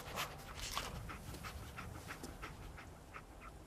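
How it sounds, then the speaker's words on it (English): A dog companion, Dogmeat, panting in Fallout 4: steady, rhythmic breathy pants repeating close up throughout, with no talking. "Dog meat. Get the scent, boy."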